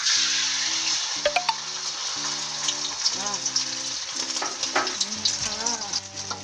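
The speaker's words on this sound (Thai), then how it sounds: "ทีนี้น้ำมันก็ร้อนแล้วนะคะเราก็ใส่ไข่เลย" An egg dropped into hot oil sizzles and crackles steadily, close and moderately loud, while someone talks over it.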